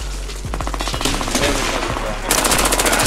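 Rapid automatic gunfire in a competitive tactical shooter match, with bursts of clattering shots close and loud for the whole stretch, and a harsher, brighter burst near the end.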